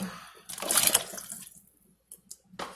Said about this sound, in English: I'm going to throw those guys in without splashing myself all over the place